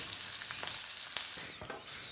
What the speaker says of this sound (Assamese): আৰু অলপ ৰঙচুৱা হোৱালৈকে ভাজি লম পিয়াজখিনি